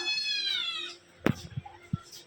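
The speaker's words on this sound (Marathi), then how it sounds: "मांजरीचा बिल्लू आतमध्ये जायला बघतोय" A cat trying to get inside lets out one drawn-out, fairly loud meow, followed by a few soft thumps and knocks nearby.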